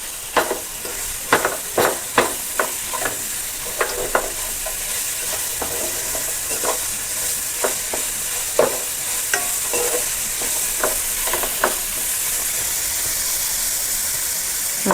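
A spatula scrapes and tosses vegetable fried rice in a hot pan, with sharp irregular metallic knocks over a constant sizzling hiss that runs throughout.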